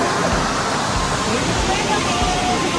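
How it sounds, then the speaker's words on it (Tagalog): A flowing stream at a farm resort in Calauan gives a steady, close rush of water, with a few low thumps and faint voices in the background. "Ito po yung kanilang batis."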